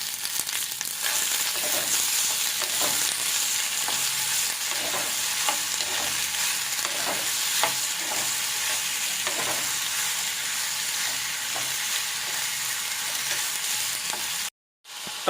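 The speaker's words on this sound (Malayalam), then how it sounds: "വഴുതനയും തക്കാളിയും ഒന്ന് വഴറ്റിയെടുക്കുക" Brinjal and tomato sauté in a hot pan for Kerala sambar, a steady close sizzle broken by repeated scraping stirs, with no talking.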